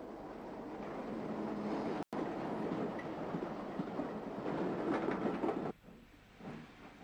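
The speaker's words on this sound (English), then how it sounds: "Diesel A41 runs round its train at Glanmire Road Station in Cork City." Irish diesel locomotive A41 runs round its train at Glanmire Road Station in Cork, a steady rumbling engine drone with faint rail noise that cuts off briefly, then drops away sharply near the end.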